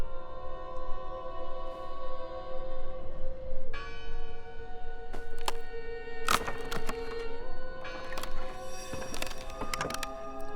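A church bell rings in the video game Draugen, sustained tonal strikes with long resonant decay, joined midway by a second deeper toll and several sharp wooden knocks and thuds, with no talking.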